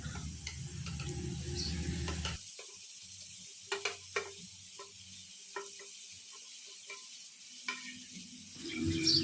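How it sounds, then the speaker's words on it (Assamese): Potatoes and tomatoes frying in a pan: loud sizzling at first, then a quieter stretch with scattered spoon clicks and scrapes from stirring, and the sizzle swelling again near the end. "এতিয়া মই আলুখিনিৰ সৈতে বিলাহীখিনি ভালকৈ মিক্স কৰি দিছোঁ"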